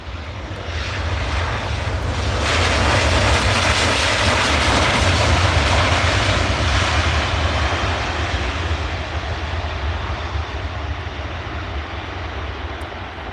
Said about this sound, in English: That Edelweiss is flying down the taxiway, pretty much.